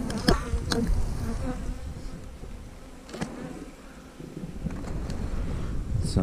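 Honey bees buzz inside an open hive box on a farm, a low, continuous, close-up drone with individual bees zipping past the microphone at moments.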